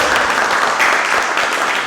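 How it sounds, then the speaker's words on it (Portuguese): A church congregation applauds together during a worship gathering, a loud, steady wash of clapping that fills the room with no pauses and no voices rising above it. "Então vou falar, vocês vão aplaudir nosso Deus."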